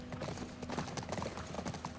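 A horse's hooves in the video game The Last of Us clip-clop in a quick steady rhythm, soft and somewhat distant.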